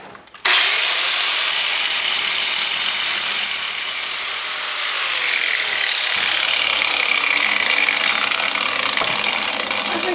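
An angle grinder bears hard on a still-hot cast iron gas-weld test piece, a loud, steady, high-pitched grinding that runs on without a break after a sudden start.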